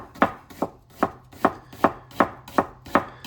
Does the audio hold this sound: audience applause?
no